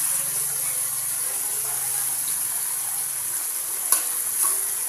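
Eggs and tomatoes fry in oil in a home kitchen pan, giving a steady, close sizzle with light stirring scrapes and a sharp clink or two near the end.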